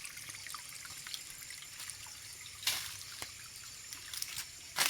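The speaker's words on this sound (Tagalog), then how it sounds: "Ito ang source ng tubig. Unang source ng tubig." Water trickles steadily at a spring water source on a hillside above a campsite, a faint continuous flow broken by a few brief louder splashes, with no talk.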